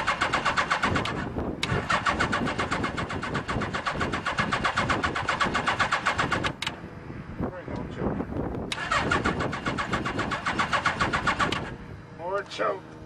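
A Suzuki GS 850G street motorcycle is started cold on choke: the starter cranks loudly for several seconds, then the engine catches and runs roughly, with another long crank after that. A voice speaks briefly near the end.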